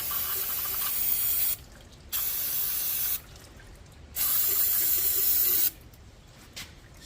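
Brake cleaner sprayed from an aerosol can onto tractor parts during farm maintenance, three loud, close hissing bursts of a second or more each, separated by short pauses.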